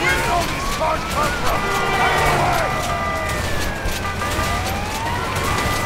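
A police car siren wails and sweeps up and down in the video game A Way Out, mixed with engine and traffic noise under a driving sequence with players talking.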